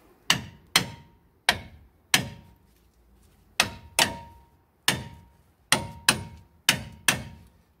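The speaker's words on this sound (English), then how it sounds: "Looks like that 35 millimeter also has to get taken off with a hammer." Sharp metallic hammer blows strike a 35 mm hub nut on a 2015 Chevrolet Silverado wheel, about a dozen loud close hits in an uneven rhythm, each ringing briefly before decaying into quiet.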